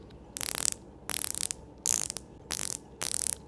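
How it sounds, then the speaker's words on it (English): Five quick bursts of fine, crisp ratcheting clicks from the bezel of a Watchdives WD007 dive watch being turned, separated by brief silences. "the action is crisp with satisfying resistance, fantastic sound, and only very slight backplay"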